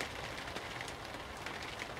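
Rain falls steadily outside at an allotment, a soft even patter and hiss that stays constant and fairly faint throughout, with no voices.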